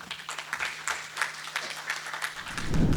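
An audience at a power-sector regulation course at GIMPA gives scattered applause, a thin patter of individual claps from a small group at low volume, with a low hum under it.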